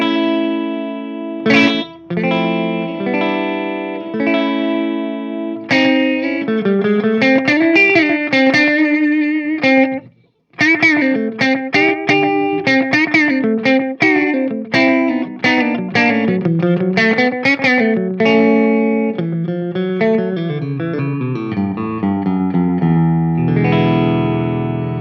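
An electric guitar played through a Dr. Z Maz 18 amp with a clean tone and slapback echo on the middle pickup, picking single-note melodic phrases and sustained chords with a short break midway, loud and close with no talking.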